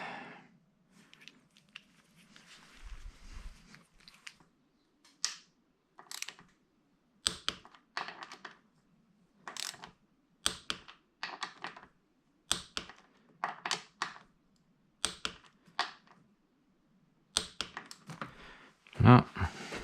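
Screws at the bottom of a Suzuki SV 650 being tightened to 23 Nm during restoration work, heard as a run of short, close clicks and taps in irregular bursts, with a sharper knock near the end.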